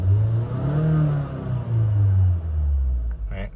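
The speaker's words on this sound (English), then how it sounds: "I hear the engine rev up more than I could feel it" A 2015 Honda Fit engine with 90k miles revving up and easing back in a smooth rising and falling hum, close and fairly loud, ending with a short sharper noise.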